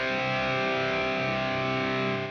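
An electric guitar plays through a NUX amp modeler set to its Super Reverb amp model, sustained chords ringing out clearly with overdriven tone for a couple of seconds, no voice over it.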